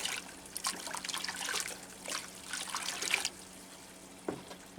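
Coco husks soaking in a container of water are stirred by hand, making faint trickling, swishing and splashing water sounds in uneven bursts, close by and quiet.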